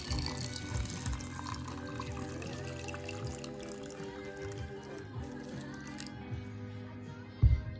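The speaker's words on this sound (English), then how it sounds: "Pour the water on it. It has to be hot water, obviously." Hot water pours steadily onto a tea sphere in a cup, a continuous close trickle and splash with a faint thump near the end.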